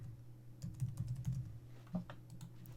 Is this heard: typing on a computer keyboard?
yes